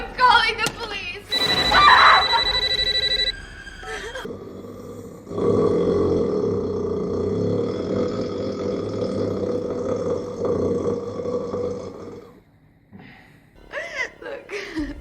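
A deep, drawn-out belch from Ghostface comes over a telephone line and lasts several seconds. Talk comes before it, and a short break in sound and more voice follow.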